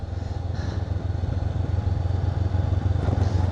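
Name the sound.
Honda CB500X adventure motorcycle riding over a bumpy road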